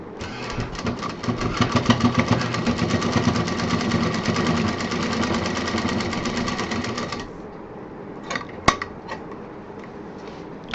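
A sewing machine runs steadily for about seven seconds, stitching the back belt of a folding tour bag with a fast, even mechanical whir. It then stops, leaving a few light clicks and one sharp tap in the quiet that follows.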